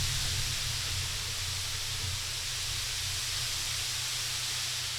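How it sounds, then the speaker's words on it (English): A steady, even hiss of broadband white noise, like a running water faucet or distant jet engine, holding at constant low loudness with no variation for the whole stretch. "Do you hear something that sounds like a water faucet running or something?"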